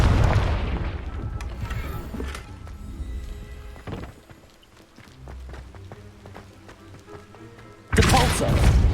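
Confringo blasting spells explode in Hogwarts Legacy, with several heavy booming bursts among busy game sounds and a loud blast returning at the end.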